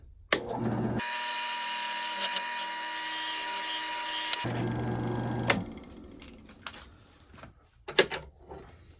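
A power drill bores a hole through a medieval crossbow roller nut, running loud and steady for about three and a half seconds after a short start, then stopping, followed by faint handling clatter.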